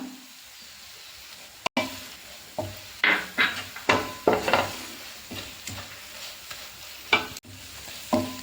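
Chili powder, pepper powder, garam masala and turmeric are sautéed for fish fry masala, with a steady sizzle in the pan under repeated scraping strokes of a spoon against the metal, close and moderately loud.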